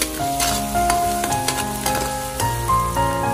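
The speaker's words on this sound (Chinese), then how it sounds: "油热后下入肉末，翻炒至变色及颗粒状，再下入蒜末炒香。" Minced meat and garlic stir-fry in hot oil in a wok, a continuous close sizzle punctuated by repeated scraping and clinking of a spatula against the pan.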